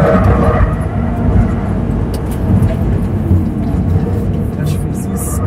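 An electric Mini Cooper SE runs on a racing circuit, a loud continuous rush of tyre and road roar with a low rumble throughout, someone talking over it.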